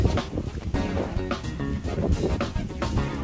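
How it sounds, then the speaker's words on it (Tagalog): Strong, cold wind roars and buffets the microphone in loud, uneven gusts at a farm ridge in Pantabangan, Nueva Ecija, with no voices. "Ang lakas ng hangin, malamig simoy ng hangin"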